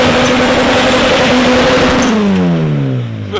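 A ZN6 car with a swapped engine revs loudly, holding high and steady as if bouncing off the limiter, then the pitch drops away as the revs fall.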